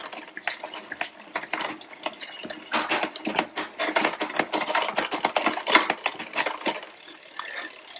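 Rear derailleur on a classic Trek 5200 road bicycle ticking and clicking rapidly as the drivetrain spins through the gears, a dense run of close, sharp mechanical ratcheting that continues throughout.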